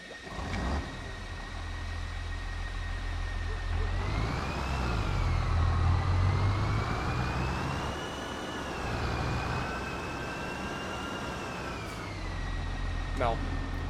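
An engine sound option on a vehicle in a farming game plays a steady idle hum with a rising and falling whine as it revs, loud and continuous, with no voices over it.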